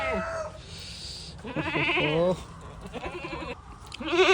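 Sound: goats bleating

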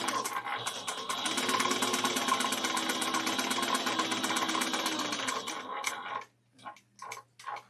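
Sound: sewing machine stitching a pocket piece of a quilted bag

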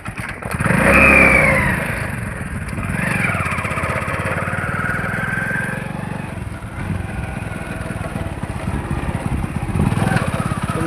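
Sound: motorcycle engine running

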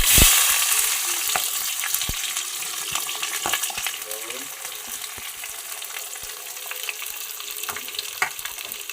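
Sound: green chillies and onions frying in hot oil

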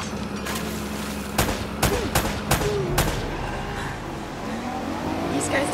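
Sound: gunfire in Uncharted video game shootout

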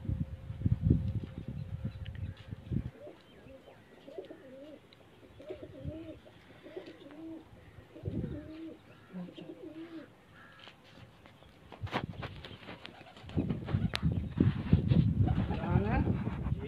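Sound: pigeons cooing at a pigeon tournament

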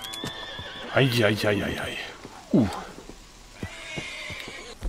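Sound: horse neighing and freaking out in Red Dead Redemption 2 video game

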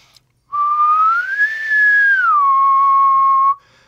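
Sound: human whistle, almost a pure sine wave

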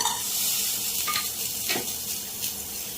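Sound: roasting coriander seeds, cumin and coconut in a pan

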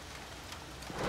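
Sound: heavy rain

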